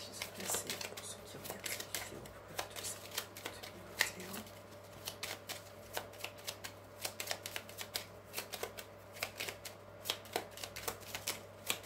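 Tarot cards shuffled and cut by hand, giving a run of soft riffling flicks and light slaps in an irregular rhythm, close and fairly quiet over a steady low hum.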